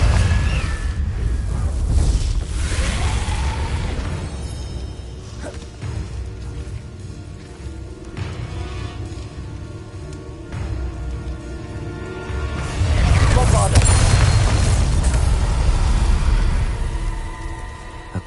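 Hogwarts Legacy video game spell effects, Bombarda and Confringo, heard as loud crackling blasts and rumbling booms over a dense, noisy background, with a strong burst near the end.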